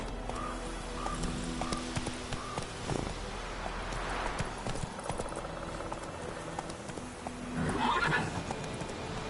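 Roach, the horse in The Witcher 3, clip-clops along in steady hoofbeats, quiet and slightly distant, then gives a clear whinny near the end, with no talking.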